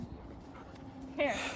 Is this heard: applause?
no